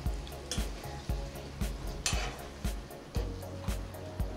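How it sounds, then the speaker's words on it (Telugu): Tamarind juice mixed into simmering rajma masala in a pan, with a soft continuous sizzle and bubbling under regular low thuds and scrapes as a spoon stirs in an even rhythm. "చింతపండు రసాన్ని ఇప్పుడు వేసుకొని కలుపుకోవాలి."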